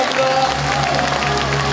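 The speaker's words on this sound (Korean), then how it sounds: "큰 박수 부탁드리겠습니다" A Korean civic event audience applauds loudly for the Uljin county mayor in a brief burst of clapping over a steady low electrical hum.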